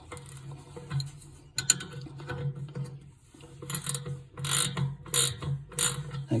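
A wrench loosens a nut on the drive of a Venco pottery wheel, giving close, irregular bursts of metallic ratcheting clicks and rattles separated by brief pauses.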